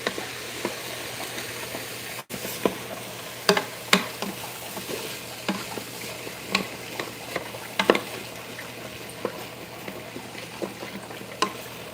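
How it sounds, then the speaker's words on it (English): A spoon scrapes the bottom of a pan of browned beef and vegetables for stew, giving sharp intermittent scrapes and clicks over a quiet, steady sizzle. "I want to scrape the bottom of this pan so I can get all of that delicious beef flavor into the vegetables"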